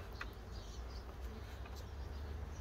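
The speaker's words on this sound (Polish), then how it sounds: "Jak widać, pszczoły już wracają." Honey bees buzzing around a hive entrance as they return, a faint, continuous insect hum with occasional brief higher whines of individual bees passing close, no voices.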